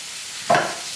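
Red capsicum strips stir-frying in oil in a pan, a single short burst of sizzle as the pieces are stirred, close and fairly quiet.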